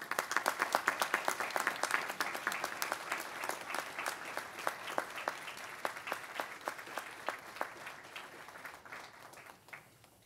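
Graduation ceremony audience applauding, a dense burst of many hands clapping that starts loud and gradually thins into scattered, sparser claps as it fades.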